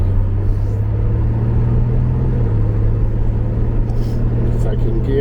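A Reliant Scimitar car drives away with a loud, steady engine rumble and a low droning hum, heard from inside the car, with a voice speaking over it.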